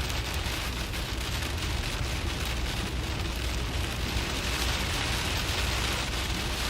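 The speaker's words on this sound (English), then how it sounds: "Gotta love the sound of rain hitting the windshield." Rain beats on a car windshield during a severe weather broadcast, a dense continuous hiss filling the whole stretch at steady loudness with no talk.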